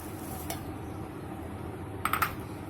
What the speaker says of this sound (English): Now take a blender jar and add 1 cup of peas in it.